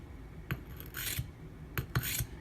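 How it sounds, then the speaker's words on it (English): A Maxamet steel knife edge is deliberately dulled before resharpening, giving a few short, quiet raspy scrapes in pairs with pauses between them, alone and fairly close. "now I'm going to kill the edge"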